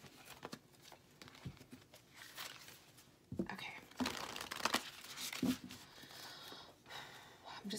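Soft shuffling and riffling of tarot cards, papery crinkles and taps in irregular bursts, close and quiet, with faint breathy sounds between.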